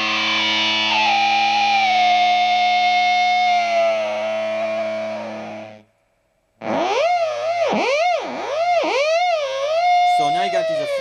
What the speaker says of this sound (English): switch on that abrasive distortion sound